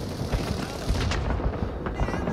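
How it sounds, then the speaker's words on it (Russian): Grenade explosions in the Vietnam War shooter Rising Storm 2: Vietnam, several loud booms in quick succession over a rumbling battlefield din with scattered gunfire. "Какие-то гранаты, блин."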